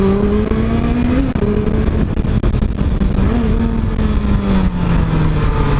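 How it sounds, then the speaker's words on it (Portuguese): A loud motorcycle engine, a Honda Africa Twin, revs up and down in long swells, its pitch rising and falling steadily, close by with no talking. "Meu pai tá querendo acelerar a África Twin pra sentir."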